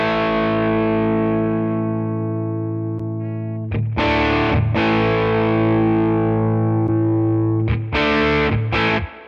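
Electric guitar played through a Tone King Preamp pedal with the full pedal engaged, long sustained distorted chords ringing loud and thick, changing a few times with short re-strums and a bright, full top end.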